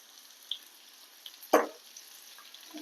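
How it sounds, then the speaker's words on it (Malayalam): Chopped large onion and dried red chili frying in oil for an okra tamarind curry: a mostly quiet pan, then one sharp sizzling burst midway that fades, with faint dripping and stirring sounds. "അപ്പോൾ ഞാൻ വലിയ ഉള്ളിയാണ് കട്ട് ചെയ്തിട്ടിരിക്കുന്നത്. അതൊന്ന് വറുക്കാം."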